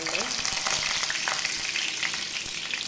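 Spices and curry leaves sizzle and crackle steadily in hot oil, a close, continuous bright hiss with scattered pops.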